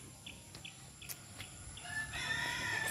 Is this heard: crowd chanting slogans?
no